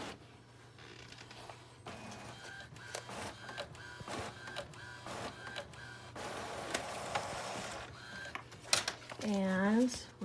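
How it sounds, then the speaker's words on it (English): Paper feeding through a computer printer onto a 12x12 scrapbook page, a series of whirring motor bursts and mechanical clicks in uneven rhythm, fairly close and quiet, with a short rising squeal of rollers near the end. "that's feeding through the printer"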